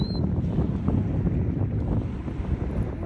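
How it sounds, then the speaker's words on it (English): Cold wind blows hard across open water outdoors, a loud continuous rumbling buffet against the microphone with no voices. "Ooh, that's cold wind."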